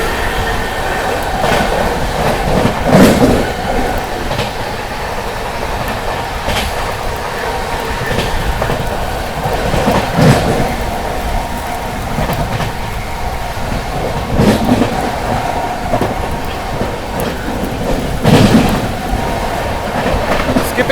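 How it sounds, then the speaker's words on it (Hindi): Patna Amrit Bharat Express 22361 races at high speed through Etawah Junction in heavy rain, a steady loud rumble of wheels on rails with recurring clattering joint beats and brief squeals, no talk. "ट्रेन गजब की रफ्तार में भाग रही है"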